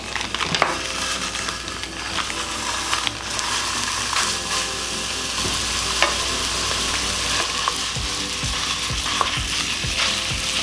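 Ground beef sizzles and crackles loudly in a preheated skillet, a steady dense frying hiss with occasional scrapes and stirring clinks throughout, no voices.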